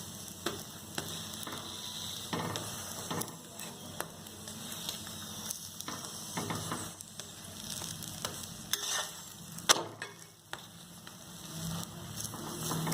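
An egg paratha fries on a hot pan with a steady close sizzle, punctuated by scattered crackles and faint scraping as it is pressed down, continuous throughout without talk.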